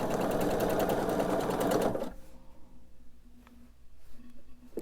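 A sewing machine runs fast and steadily, stitching quilt diamond pieces together with a dense, rapid mechanical whir. It stops abruptly after two seconds, leaving quiet room noise with faint handling sounds.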